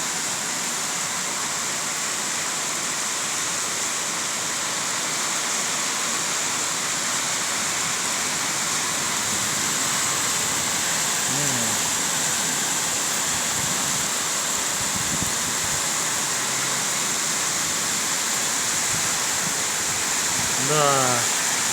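Heavy rain pours down steadily onto rooftops in a constant, dense hiss that lasts the whole stretch, with a few faint voices speaking briefly under it.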